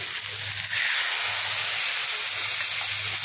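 Water poured into hot, oil-fried spice masala hisses loudly and continuously, a close steady sizzle with no voices over it.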